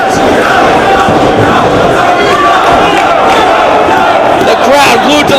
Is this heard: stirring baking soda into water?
no